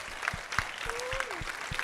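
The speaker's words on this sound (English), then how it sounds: "Let's give them a round of applause." Audience applause fills a national consultation indaba on adolescent pregnancy: steady, moderately loud clapping with a thin whistle-like tone drifting through and faint voices underneath.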